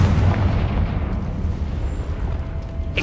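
A Confringo fire spell goes off in Hogwarts Legacy with a deep booming explosive blast that rolls and slowly fades over about three seconds, closing with a faint sharp crackle.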